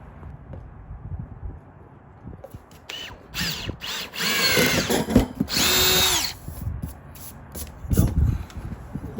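A power drill bores a pilot hole while building a custom rolling stand for a SmokinTex 1400 smoker, with several short whirring bursts rising and falling in pitch, the longest in the middle, close and loud amid handling noise.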